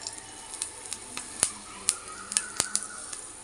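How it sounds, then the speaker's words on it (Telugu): Dried red chilli and garlic tempering in a spoonful of hot oil for a chana dal chutney, giving a steady close sizzle with a few sharp pops and spits. "ఇప్పుడు పోపు చేసుకుందాం ఒక స్పూన్ నూనె వేసుకోవాలి ఒక ఎండుమిరపకాయ ఒక ఎల్లుల్లిపాయ"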